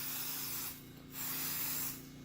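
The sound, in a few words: scanning spray sprayed onto a denture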